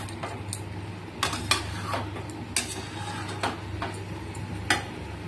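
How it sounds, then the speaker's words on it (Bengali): A spatula stirs and sautés large soybean chunks for soybean curry in an oily pan, giving irregular scraping clinks and taps over a steady low hum. "ভালো করে নেড়ে চেড়ে কষিয়ে নেবো, যতক্ষণ না ভালো একটা সুন্দর স্মেল ছাড়ছে ততক্ষণ অবধি"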